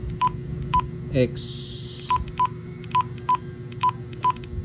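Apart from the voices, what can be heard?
keypad beeps while programming a Quansheng UV-5R Plus radio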